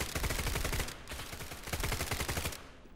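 Rapid bursts of sharp cracking shots as a plant fires thorns in the video game SCP: 5K, two dense volleys separated by a brief gap, loud and close.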